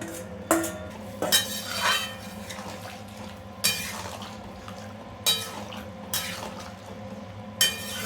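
Mushroom pakoras stirred through gravy in a pan give scattered clinks and scrapes of a utensil against the metal, with soft liquid sounds between them and a steady low hum underneath, all fairly quiet with no talking.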